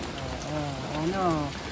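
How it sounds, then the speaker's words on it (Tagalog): Rain falling steadily on a surface, with a person's voice speaking briefly over the hiss. "Ayan, umuulan."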